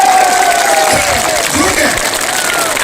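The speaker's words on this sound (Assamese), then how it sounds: "সকলোৱে জোৰকৈ এটা হাত তালি বজাওক না প্লিজ" A crowd at a political rally in Jaleswar claps and cheers loudly. The applause runs continuously, with a voice heard over it.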